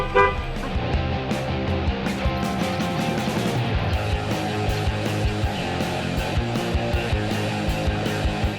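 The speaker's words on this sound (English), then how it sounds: "only this time it takes a lot of honking to get him to change his plans" Car horns blaring in traffic, many repeated toots and long honks overlapping over engine noise, loud and close throughout.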